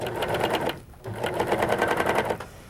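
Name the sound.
Viking Huskylock 1002LCD serger sewing piping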